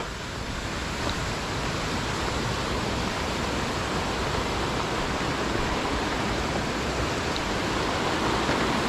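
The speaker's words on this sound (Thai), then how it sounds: "อันนี้ก็ข้ามลำธารอีกครั้งหนึ่ง" A forest stream runs over slippery rocks on a hiking trail to Tat Mok waterfall in Phetchabun, a steady, close, broadband rush of water with no voices.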